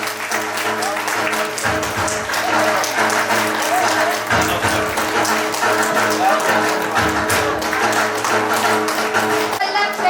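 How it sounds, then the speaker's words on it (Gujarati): A hall audience at a Brahma Kumaris felicitation ceremony in Patan claps loudly and steadily, with sustained music tones running underneath the applause. "જોરદાર તાળીઓથી અભિવાદન કરી અભિનંદન"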